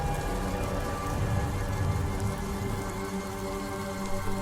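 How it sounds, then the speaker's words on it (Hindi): Heavy rain pours in a dense, unbroken wash of drops for the whole stretch, loud and close, with no voices or other sounds rising above it. "बारिश इतनी तेज थी कि बाइक चलाना लगभग नामुमकिन था।"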